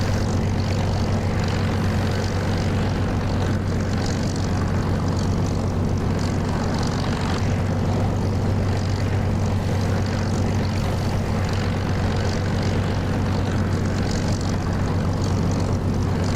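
Spitfire piston engine in the DCS flight simulator, a constant loud propeller drone with a deep steady hum holding unchanged throughout, no talking.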